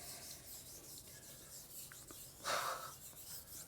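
A scrub pad rubs over rusty metal in an old Harley shop, quiet repeated scraping strokes close by that swell briefly louder near the end.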